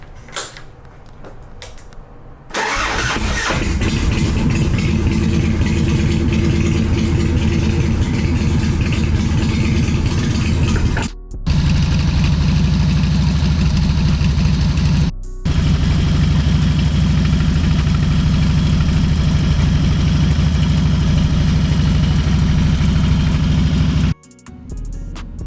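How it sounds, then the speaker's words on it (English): A freestyle motorcycle with new motor mounts cold-starts after a brief low rumble, then idles loudly and steadily nearby with a rough, shaking mechanical chatter, cutting out briefly twice before settling back into the same idle. "We're gonna loosen this up and do a cold start, let the bike shake around a little bit."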